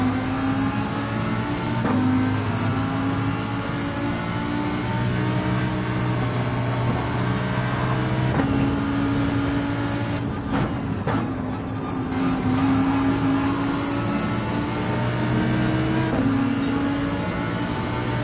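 Race car engines drone and rev steadily throughout a racing video game set in rainy conditions, with a continuous loud engine note rising and falling in pitch alongside a few brief bumps.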